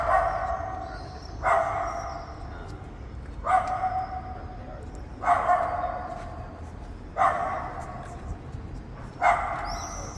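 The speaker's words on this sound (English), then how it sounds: "Where the heck did the dog go?" A dog barks in single sharp barks repeated at a steady interval of about two seconds, moderately distant, on a street in Barcelona, Spain, over faint background noise.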